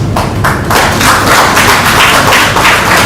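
A hall audience applauds, steady and dense, a loud wash of many hands clapping together that holds for the full few seconds without voices over it.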